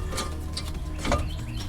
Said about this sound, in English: I'm just using a breaker bar because it's what's right near me.